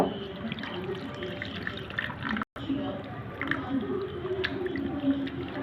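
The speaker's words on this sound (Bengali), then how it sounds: "পানি দিয়ে এভাবে হাতটা ধুয়ে" Running water splashes over hands with rubbing and squishing, close up, while a person talks over it; a brief silence breaks it midway.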